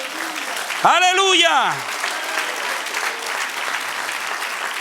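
A church congregation applauds during a sermon with steady broadband clapping. A preacher's loud sung exclamation rises above it near the start, then the clapping carries on alone.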